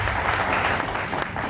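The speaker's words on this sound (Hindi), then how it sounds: "एक बार अपने लिए तालियां बजाइए" Audience applause at a speech gathering in Bidar, Karnataka, a steady dense clapping from the crowd lasting the whole moment, fairly loud and without talk.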